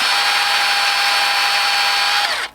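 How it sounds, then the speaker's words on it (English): A power drill widening a hole to 1/8 inch during a Gillman figure repair, a loud, close, sustained high whine at steady speed that winds down at the end, with no speech. "We're just going to drill it back out to 1/8 inch."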